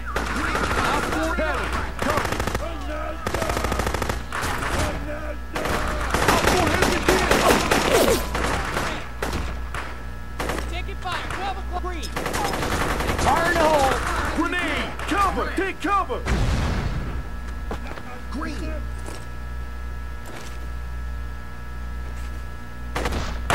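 Bursts of automatic rifle fire and louder single shots in the Close Combat: First to Fight Xbox shooter, coming in dense, uneven volleys with shouted squad commands mixed in throughout.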